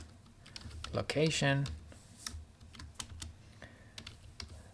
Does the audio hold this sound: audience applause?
no